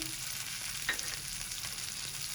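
Chopped green chillies, cut into half-inch pieces, frying in a pan with a soft steady sizzle and a brief stirring scrape, quiet and close.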